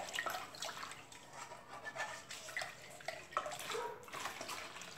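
Room-temperature water is poured into a pot while making concentrated blue liquid soap, a faint splashing, gurgling trickle that swells and fades in short uneven bursts.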